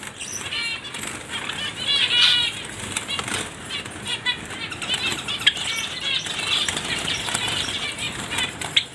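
White and silver Java sparrows fluttering in a cage, rapid wingbeats flapping continuously and close, with faint chirps mixed in.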